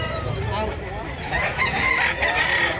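A rooster crows loudly and close among a batch of chickens bought for transport to Masbate, with clucking fowl and a voice mixed in underneath.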